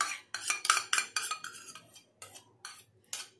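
Curd is spooned from a bowl into fasting-style idli batter, with a run of sharp metallic clinks and scrapes of spoon against steel dishware, fairly close and moderately loud, with no talking.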